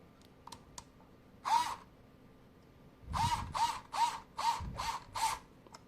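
A screwdriver drives a screw down while a white PC is built in a Lian Li Dan A3 mATX case, producing a series of rhythmic ratcheting clicks in short bursts, close and fairly loud, with no talking.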